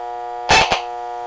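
A short burst of harsh buzzing noise, a TV remote's infrared signal converted to sound: two quick pulses over a steady electronic hum, close and fairly loud.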